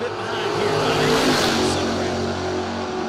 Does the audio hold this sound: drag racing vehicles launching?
yes